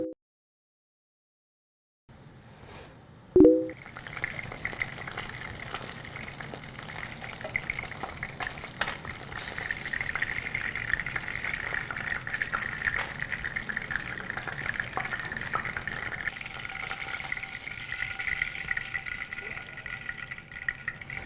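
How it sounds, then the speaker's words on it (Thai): Black olive and spring onion fritters fry in a shallow layer of hot oil, a steady close bubbling sizzle that starts after a short silence and a single knock, continuing evenly with no speech. "น้ำมันร้อนดีแล้วเราเอาลงทอดครับ"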